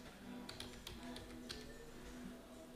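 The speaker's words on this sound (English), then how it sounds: "just press the Windows key on your keyboard and you can type reset" Computer keyboard typing, a quick cluster of light key taps followed by a few more scattered taps, faint and close over a low background hum.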